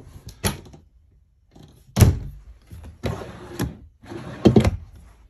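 Closet doors and drawers in a Wildwood 31KQBTS RV opened and shut one after another, several close wooden thunks, slides and clunks in separate bursts with brief pauses between.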